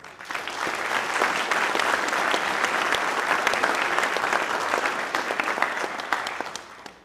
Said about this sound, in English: So please join me a round of applause, those folks who took part in our ceremony today